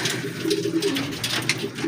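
Racing pigeons in a loft in Tanay, Rizal coo steadily in soft, overlapping throaty calls, close by and continuous.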